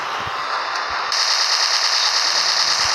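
Rapid automatic gunfire in a zombie shooting video game, a dense continuous rattle of shots that grows slightly louder partway through, with no voices over it.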